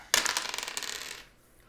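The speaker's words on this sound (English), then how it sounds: "He roll the dice." Dice tossed in a street C-Lo game land with a sharp clatter, then rattle and bounce in quick, shrinking clicks for about a second before settling, heard up close with no talking.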